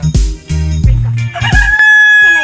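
A rooster crows loudly several times in quick succession, its strained, wavering calls close by, with chickens clucking in between.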